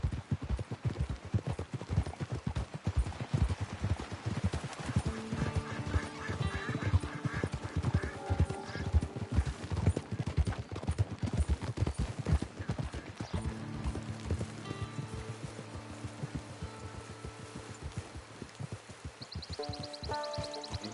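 Horse hooves clip-clop in a steady galloping rhythm throughout a Red Dead Redemption ride on PS4, close and prominent, with game music tones rising and falling underneath.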